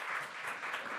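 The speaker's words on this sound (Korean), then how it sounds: "큰 박수 부탁드리겠습니다." A brief, fairly faint burst of audience clapping at a National Assembly forum on AI and culture, sports and tourism, heard for about a second.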